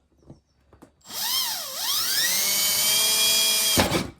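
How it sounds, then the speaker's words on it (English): A power drill with a 3/4 inch bit bores out a hole on a 1971 Dodge Challenger, with a few soft clicks first, then a loud, close, whining drone whose pitch dips and recovers before it stops abruptly. "I'm using this 3/4 inch bit to drill this hole out"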